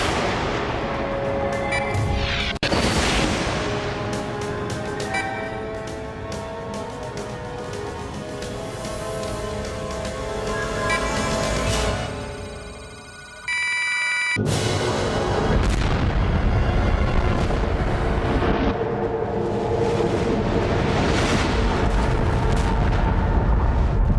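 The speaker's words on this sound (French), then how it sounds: "dû absorber l'explosion" Film soundtrack from an alien invasion movie: heavy booming explosions and rumbling blasts roll on loudly, with a brief near-silent drop midway before a sharp burst resumes the dense, rumbling din.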